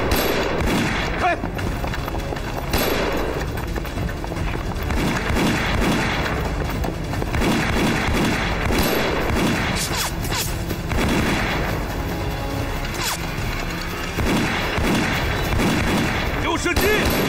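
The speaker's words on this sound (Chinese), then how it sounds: "有射击！" Dense battle gunfire from a war film set in the anti-Japanese war, with booming shots and rattling bursts packed together continuously and loudly, with voices mixed in.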